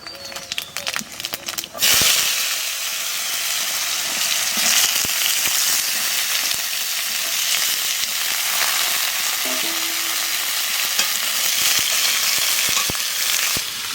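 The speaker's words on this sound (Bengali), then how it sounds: "তেলের ওপর দিয়ে দেবো 5 ফোড়ন আর শুকনো লঙ্কা" Panch phoron and dried red chillies hit hot oil with a sudden loud hiss, settling into a steady, crackling sizzle that holds for many seconds, with a few faint clicks of utensils and brief talk early on.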